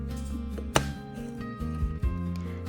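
A knife slices through a lemon and an orange on a cutting board, a few distinct chops with a sharp knock, over a steady background hum.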